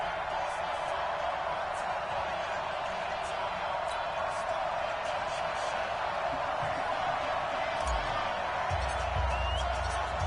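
Crowd noise in an EA Sports NFL video game, before a Mexico City Golden Eagles versus Tennessee Titans match, sits as a steady, moderate roar of the stadium throughout. A few low thumps enter near the end.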